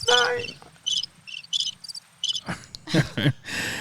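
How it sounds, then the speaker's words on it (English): Crickets chirp in short, evenly spaced bursts against a quiet night backdrop, with a few faint voice-like sounds near the end. "She gets crickets."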